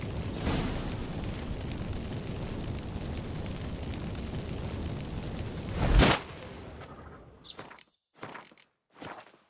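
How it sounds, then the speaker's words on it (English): Magic fireworks set off by burning incense in The Witcher 3: a sustained roaring, crackling rush that swells into a sharp burst, then drops away to a few scattered scrapes and scurrying noises. "Get ready for some magic fireworks"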